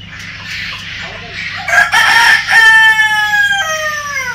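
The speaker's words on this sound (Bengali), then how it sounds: "দেখেন কত বড় ফার্মি মুরগি, মোরগ। ক্যামেরা ধরার কারণে কিন্তু ডাকাডাকি করতেছে" Farm chickens and a rooster at a quail and poultry hatchery, a loud rooster crow rising over steady clucking and calling from nearby birds, with a low hum underneath.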